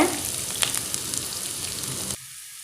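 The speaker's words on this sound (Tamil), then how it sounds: "இப்போ நம்ம இதில் கடுகு சேர்த்துடலாம் நாம் வெங்காயத்தை சேர்த்துடலாங்க" Mustard seeds and onion sizzle in hot ghee for a chicken ghee roast, with a steady close frying hiss and occasional pops before it cuts off abruptly near the end.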